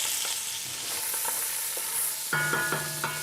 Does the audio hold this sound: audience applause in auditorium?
no